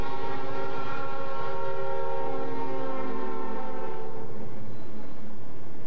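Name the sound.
train horn blowing two longs and two shorts before a crossing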